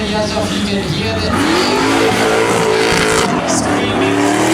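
A drift car's engine screams at a King of Drift Asia 2015 competition, loud and continuous at high revs with rising and falling pitch sweeps as it slides, close by and dominating throughout.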